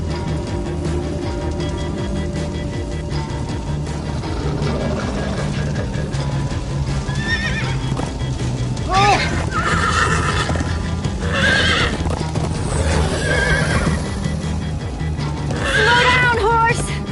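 Horses in a video game neigh and whinny several times over a galloping clip-clop rhythm, with background game sounds and voices speaking throughout.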